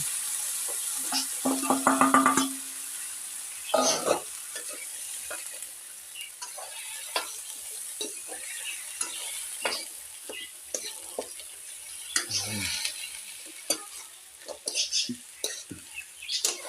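Fish head stirred and sautéed in a pan, with scraping utensil strokes and a soft frying sizzle, a louder burst of stirring early on, then intermittent clinks and scrapes.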